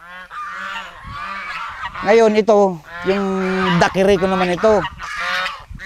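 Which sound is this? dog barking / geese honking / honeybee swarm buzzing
geese honking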